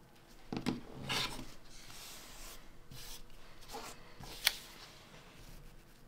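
Quilt fabric pieces are trimmed along a ruler, with quiet, close scraping and rasping cuts in several short strokes and a small sharp tap near the end.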